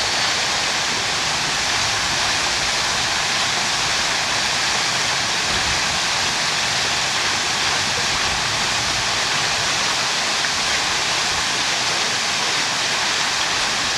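Steady, loud rushing and splashing of water pouring down a waterfall built by a waterfall company, a dense continuous roar with no talk.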